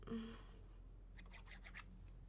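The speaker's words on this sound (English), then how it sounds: "Now this one I'm going to go ahead and trim it, cut it in half a bit." Scissors trimming paper for a handmade painted-peony card, a short close run of quiet snips and scratchy cutting strokes after a faint tap, all alone in a quiet room.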